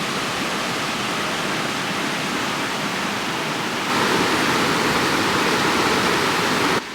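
River water rushing through the Great Soča Gorge in Slovenia, a steady, dense, broadband roar heard close and loud, growing slightly stronger partway through.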